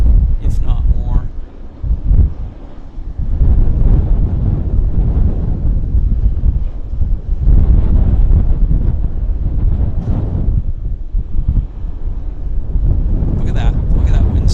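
Strong gusts batter the microphone at Vancouver Airport, a loud, continuous roar of wind that swells and dips in waves throughout, with no clear speech.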